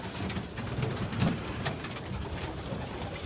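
Pigeons coo softly and repeatedly during bath time, several low rolling calls overlapping at moderate distance against a mild background hiss, with no talking.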